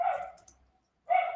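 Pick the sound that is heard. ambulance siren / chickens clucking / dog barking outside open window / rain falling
dog barking outside open window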